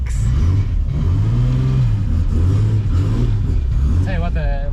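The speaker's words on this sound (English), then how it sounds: "Who's got time for a loud exhaust?" A 670-horsepower E30 BMW revs on the road with a loud exhaust, a deep rising and falling engine drone close by, with a voice speaking over it near the end.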